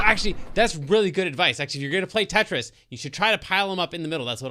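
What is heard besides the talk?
No distinct noise like a dog, phone or traffic.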